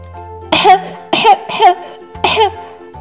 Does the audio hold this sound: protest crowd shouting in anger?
no